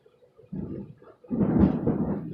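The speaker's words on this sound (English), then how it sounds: "Oh yeah, you hear that thunder?" Low rolling thunder from a storm outside, a soft rumble that swells into a louder, sustained roll after a brief lull, with no talk over it.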